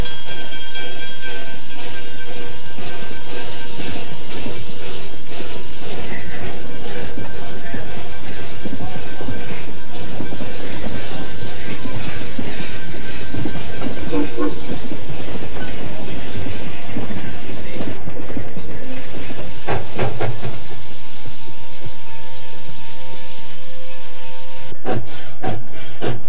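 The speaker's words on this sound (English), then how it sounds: "one steam train passes another steam train on a regularly scheduled basis" A steam train on the Strasburg Railroad in Pennsylvania rolls past with continuous clattering rail noise, a steady mechanical rumble and brief whistle-like tones, loud and close, with no voices.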